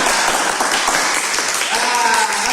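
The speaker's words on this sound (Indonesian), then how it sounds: "Tepuk tangan." A classroom of pupils claps together during a lesson, a dense, steady patter of many small hands with children's voices mixed in throughout.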